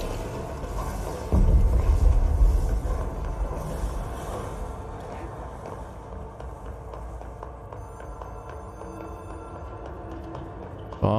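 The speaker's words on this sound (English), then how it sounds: "Phone's ringing." In the video game Control, a phone rings, thin high-pitched ringing tones arriving near the end over a dark, rumbling ambient drone that opens with a deep boom.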